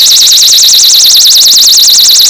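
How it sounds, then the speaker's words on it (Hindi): A personal safety alarm keychain shrieks after its pin is pulled, giving a loud, piercing, rapidly warbling siren tone that runs steadily without pause and with no other sound. "Alarm keychain में पिन होती है, ये अगर आप इसको निकालते हैं तो इस तरीके से"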